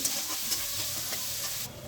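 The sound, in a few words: onions frying in a pan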